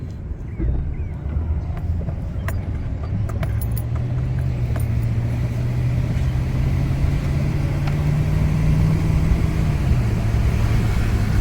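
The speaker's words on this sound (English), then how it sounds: "Nope, there comes a vehicle up through it." A vehicle drives up through a flooded road in Clay City, Kentucky, its engine a steady rising drone under a continuous wash of water and rumble, growing closer and louder over the span.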